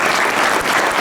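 Audience at a mayor's New Year wishes ceremony in Saint-Palais applauds in a show of solidarity with farmers: a dense, steady wash of many hands clapping, close and loud, filling the whole moment with no voices.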